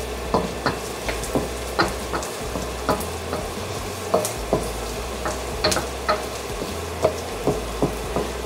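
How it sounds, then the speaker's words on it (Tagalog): Onion, ginger and garlic sauteing in a pan over medium heat for beef pares: a steady sizzle under regular sharp taps and scrapes of a spatula stirring, close and continuous, with no voices. "Saute your onion and ginger."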